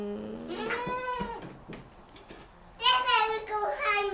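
A baby goat bleats in wavering, quavering calls at close range, first alone and then louder near the end, with a child and an adult talking around the animal.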